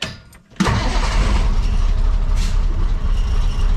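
A dump truck's engine cranks and catches after a belt change, a short starter burst then a loud, steady low idle rumble that holds without squealing.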